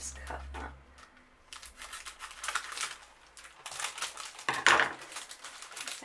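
A plastic packet is snipped open with scissors, with crisp crinkling and cutting noises at close range; a person talks briefly at the start.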